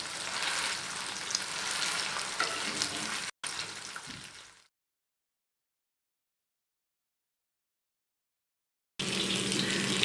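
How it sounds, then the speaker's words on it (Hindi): Chapli kababs, Peshawari style, fry in a pan over a low flame with a steady close sizzle that cuts out abruptly to silence midway, then returns near the end. "इस तरह आपने जो है सारे कबाब फ्राई कर लेने हैं, दोनों तरफ से जो है वो लाइट ब्राउन हो जाए"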